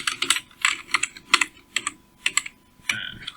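Keys clatter on a computer keyboard during spreadsheet work in Excel, a quick burst of crisp, close taps in uneven clusters with short pauses between them, heard alone.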